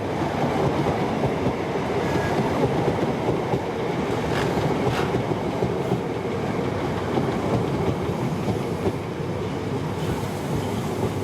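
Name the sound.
HST high speed diesel train departing Euston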